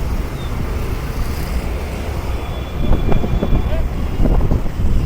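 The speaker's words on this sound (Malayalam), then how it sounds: "നല്ല ചെറിയ കാറ്റൊക്കെ ഉണ്ട്" A light breeze buffets the microphone outdoors in a continuous rumbling rush, with faint gusty swells toward the end and no one speaking.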